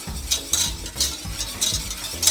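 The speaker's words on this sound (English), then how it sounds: "Now we're mixing the milk in" Milk being stirred into a butter-and-flour roux for béchamel, a utensil scraping and swishing around the pan in short repeated strokes, close and moderately loud, with no talking.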